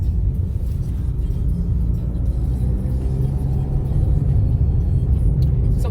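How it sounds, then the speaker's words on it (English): Car driving up into the hills of Helshire, Jamaica, a steady loud low engine rumble and road roar throughout, close and continuous with no talk. "So we're driving up to the hills of Helshire."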